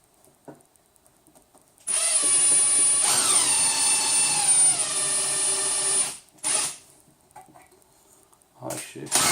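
A power drill drives screws into a frame, its motor whining loud and close in one sustained run of about four seconds. The pitch drops as the screw seats, followed by short bursts and handling noises.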